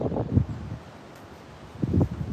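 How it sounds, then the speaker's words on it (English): Strong wind buffets a microphone outdoors beside a shipping container workshop in bursts of low, rumbling gusts at the start and again near the end, with a quieter hiss in between. "it's actually really windy today. Hopefully that's not messing up my audio too much."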